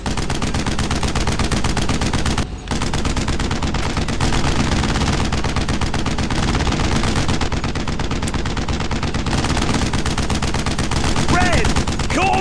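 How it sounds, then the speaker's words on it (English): Sustained machine gun fire rattles in rapid, dense bursts during a World War II combat scene in the Brothers In Arms video game, loud and nearly unbroken, with a brief pause and faint shouted voices in the mix. "I need suppressing fire!"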